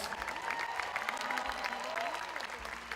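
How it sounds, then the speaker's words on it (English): Fairly faint, distant-sounding applause from the crowd at a school's family entertainment night, steady for a few seconds with faint tonal sounds drifting through it. "please put your hands together and give him a warm round of applause"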